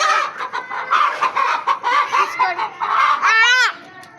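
A chicken clucks in a busy run of short calls, ending in a louder rising squawk near the end, close and fairly loud.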